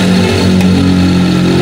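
A Mitsubishi Lancer with a 4G13 engine and a tapping fault runs close and loud, giving a steady humming drone with a slight pulsing throughout.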